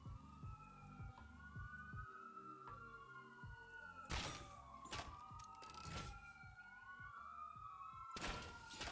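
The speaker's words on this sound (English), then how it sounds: "apologies if you can really hear the sirens going tonight" Emergency vehicle sirens wail outside at night, their rising and falling tones sweeping continuously through the background over a steady low mechanical hum, with louder bursts of noise breaking in.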